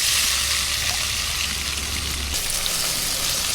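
Wild mushrooms, garlic and chili stir-fried in plenty of oil over high heat give a loud, steady sizzle and hiss close by. A low hum underneath cuts out partway through while the frying carries on.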